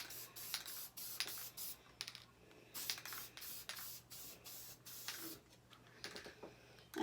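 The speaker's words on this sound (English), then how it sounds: "grab that spray adhesive and spray it really well" Spray adhesive hisses from an aerosol can in several short, sharp bursts with brief pauses between them, close and fairly quiet, with light handling noises in the gaps.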